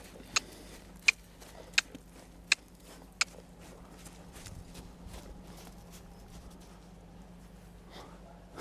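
A horse trots on a lunge line during groundwork. Five crisp, evenly spaced hoof strikes ring out close by, then fade into quieter, softer steps over low background hum, with no talking.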